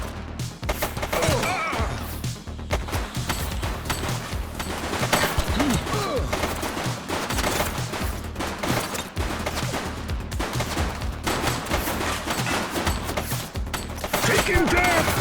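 A sustained firefight rages in the police game The Precinct, with rapid, loud gunshots and automatic bursts cracking through steadily, mixed with impacts, music and shouting voices.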